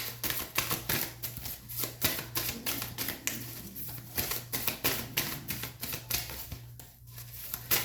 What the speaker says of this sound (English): we'll shuffle to see if, you have anything else from this deck in particular